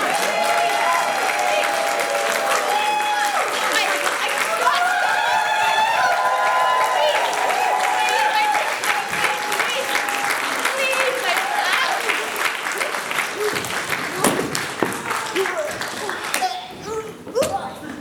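A theatre audience at a Brothers Grimm comedy show claps loudly and continuously, a sustained roar of hands with cheering voices and performers calling out over it, thinning out near the end.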